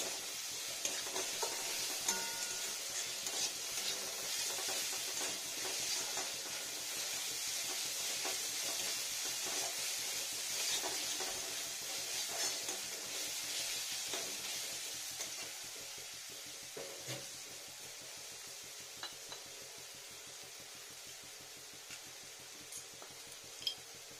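Mung dal fries in a pan for a vegetarian dal with cumin paste, groundnut and radish. A steady sizzle runs under repeated stirring scrapes and light utensil clinks, thinning toward the end. No one speaks.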